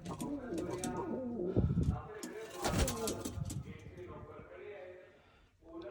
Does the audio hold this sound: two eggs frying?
no